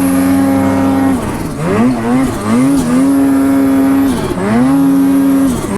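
Snowmobile engine held at full throttle while sledding in deep snow, a loud close whine that holds steady, dips and rises again in pitch as the revs shift, with no talk.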